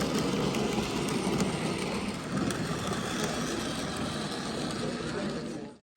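A model railway 042 steam locomotive pulling a short freight train runs with a steady, dense mechanical rumble and clatter, constant throughout before cutting off abruptly at the end.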